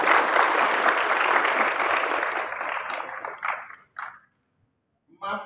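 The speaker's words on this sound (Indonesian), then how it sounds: "Tepuk tangan untuk Pak Yusef." An audience at the opening ceremony of the MAPSI SMK competition at Universitas STEKOM in Semarang claps for Pak Yusef, a dense burst of applause that thins out and stops, after which a brief voice is heard.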